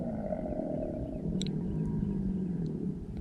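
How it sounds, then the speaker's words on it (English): An upset alligator gives a low, rumbling roar close by on foggy water, a deep continuous bellow lasting the whole stretch, with a couple of faint clicks over it. "There's a big upset gator somewhere real close by."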